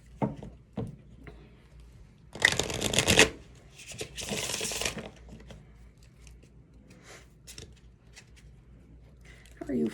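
Oracle cards being shuffled for a love tarot reading, two distinct bursts of riffling, the first loud and close, the second slightly softer, with quiet handling noises between.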